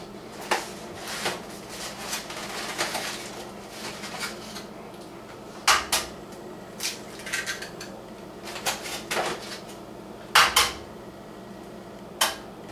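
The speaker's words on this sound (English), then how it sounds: "you want to mix it up in your mixing bowl" A spoon stirs ingredients in a mixing bowl, giving irregular close clinks and knocks against the bowl spaced by quieter scraping, with no voices.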